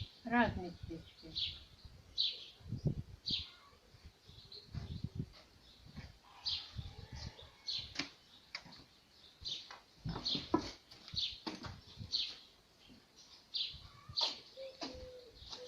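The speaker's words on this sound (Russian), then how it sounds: "И утки крякают, и птички поют, Ага. и павлины, и голуби." A village yard full of birds: small birds chirp and sing in quick, scattered bursts, with ducks, peacocks and pigeons among them, mostly faint and irregular, while people talk quietly nearby.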